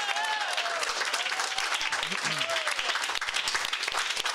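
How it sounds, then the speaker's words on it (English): Sustained audience applause at a national political convention, a steady wash of clapping from a large crowd with a few faint voices and calls mixed in. "a round of applause for all of our regional and local leaders"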